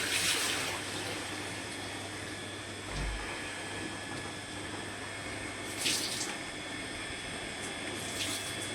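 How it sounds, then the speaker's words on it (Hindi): Steady broadband hiss of rain falling continuously, with a low motor hum underneath and a few brief louder splashes. "बारिश हो रही है आज तो सुबह से ही।"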